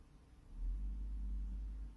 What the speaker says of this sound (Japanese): 車ですね、車かな、車の音ですね、タイヤの音かな。